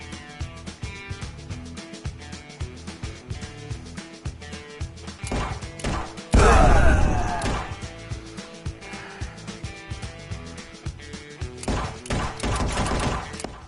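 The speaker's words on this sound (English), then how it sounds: "a gunshot" Gunfire in the video game Guns and Story Bulletproof, with a loud burst of shots and crashing impacts that rings out over a busy game soundtrack, followed by further scattered hits.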